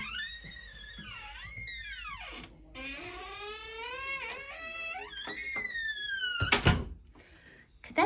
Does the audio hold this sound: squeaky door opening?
yes